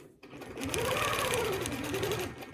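A sewing machine stitches along a quilting template, a close, steady mechanical whirr that starts abruptly and runs evenly for about two seconds.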